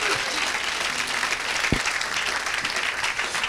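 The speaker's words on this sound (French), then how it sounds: "Si tu crois, acclame encore plus fort que ça." Congregation at a church service applauding steadily with cheering mixed in, a continuous wash of clapping with one sharp louder clap near the middle.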